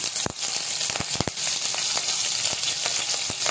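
Cumin seeds and green chillies sizzle in hot oil in a pan as fried rice is being made, a loud continuous crackle broken by sharp spits and pops.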